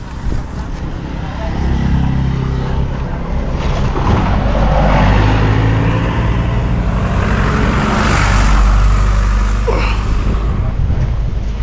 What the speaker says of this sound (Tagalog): Oops, may sasakyan pa.